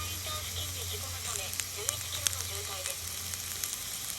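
Garlic sprouts and zucchini fry in butter over a campfire stand outdoors, a steady close sizzle with small crackles and pops, while a low hum runs underneath.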